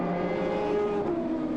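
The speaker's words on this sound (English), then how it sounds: "Beautiful sounding car, that BMW" A BMW race car at the 1999 Le Mans 24 Hours, its engine holding a steady, loud, sustained tonal howl close by with slight pitch shifts as it runs.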